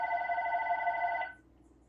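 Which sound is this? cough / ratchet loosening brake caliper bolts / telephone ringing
telephone ringing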